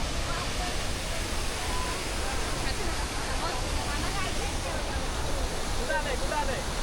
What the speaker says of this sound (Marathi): आम्ही आलो आता धबधब्यावर